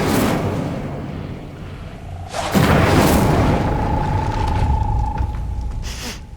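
An Incendio fire spell blasts a gate open in Hogwarts Legacy with a loud sudden boom and rumbling roar, followed by a sustained hum and a softer burst near the end.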